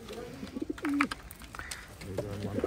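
A high-flying pigeon from Khulna coos softly in a few short, throaty bursts at close range, with faint background noise between calls.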